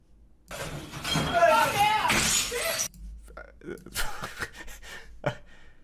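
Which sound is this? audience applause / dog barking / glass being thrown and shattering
glass being thrown and shattering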